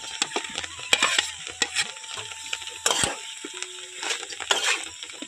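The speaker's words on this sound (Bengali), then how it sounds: "এখন আমি দিয়ে দেব যে কাঁঠালের মাঝের অংশটা কেটে রেখেছিলাম সেইটা এখন এখানে দিয়ে দিচ্ছি" Jackfruit core pieces drop into a pan of spiced potato masala with scattered clunks, scrapes and light sizzling from stirring, close and fairly quiet.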